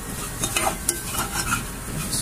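Dalia with egg and sugar roasts in a tablespoon of oil, a close soft sizzle broken by quick spoon scrapes and light clinks against the pan.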